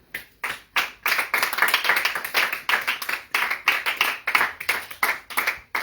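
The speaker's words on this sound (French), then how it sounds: "Acclame pour Jésus." Church congregation clapping together in praise of Jesus, a steady run of loud, fairly rhythmic handclaps heard close up that carries on throughout with no voices over it.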